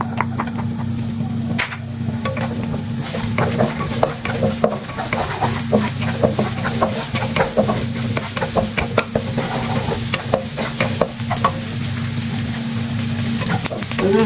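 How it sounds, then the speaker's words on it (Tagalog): Onion frying in cooking oil, with a steady close sizzle under repeated scraping and tapping of a utensil stirring in the pan, continuing throughout without speech. "Then, fry natin yung onion."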